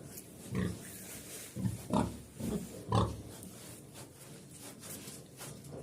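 A pig with a badly hurting hind leg grunts several times in short bursts, with rustling and shuffling of movement between them, close by and moderately loud.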